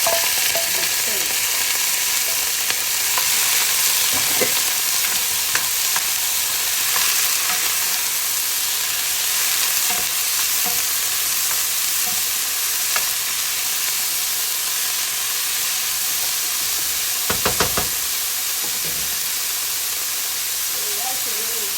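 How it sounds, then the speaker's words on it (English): Red chard stems and onion fry in a pan, filling the space with a loud continuous sizzle and steam hiss, broken by occasional scrapes and clinks of stirring at close range. "We're going to add the stem to the onion so that they can roast together."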